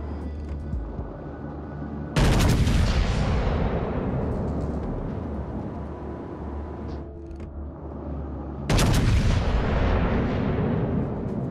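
Heavy warship artillery in the naval battle game World of Warships: Legends booms out in two big salvos, each a sudden loud blast fading into a long rumbling roar over steady background noise.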